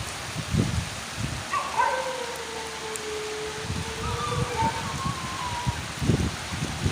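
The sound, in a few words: first stormy winter rain in Karachi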